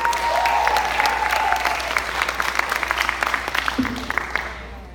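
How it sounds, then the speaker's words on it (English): Applause from a conference audience in Lima, Peru, welcoming community service project presenters: dense, steady clapping fills the room for several seconds and slowly thins toward the end. "please give a warm welcome and round of applause to We Care"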